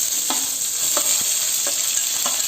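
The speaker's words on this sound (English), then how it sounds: "Fry everything nicely till the onion all gets softened. The said ingredients are getting fried." Red chilies and sliced onions fry in a pan under a bright, even sizzle, with four soft, evenly spaced taps of a spatula stirring them; nobody speaks.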